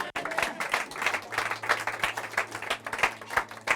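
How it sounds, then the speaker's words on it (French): A church congregation claps and applauds to acclaim Jesus during a French-language service, brisk uneven hand claps filling the room at moderate loudness, with a faint low hum underneath. "Est-ce que tu peux acclamer Jésus?"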